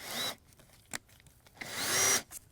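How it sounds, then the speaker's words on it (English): A power drill drives a small tacking screw into polystyrene foam while building a concrete frame form. Two close, loud whirring bursts are heard, a short one at the start and a longer one near the end, separated by quiet. "just grab a little tacking screw and it goes really nice and easily straight into here."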